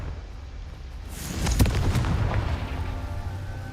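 A Confringo fire-blast spell from Hogwarts Legacy erupts in a single swelling boom around the midpoint, then rolls into a sustained rumbling wash that lingers and slowly fades over steady background ambience.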